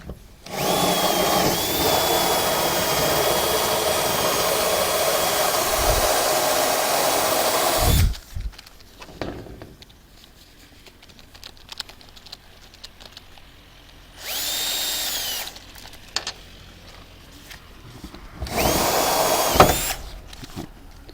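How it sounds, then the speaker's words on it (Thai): A power drill whirs steadily for several seconds boring holes while mounting solar panels, then stops; after a quiet stretch with faint clatter, two shorter bursts of drilling follow. "เราต้องเจาะให้ได้กึ่งกลางของเชือกที่เราขึง"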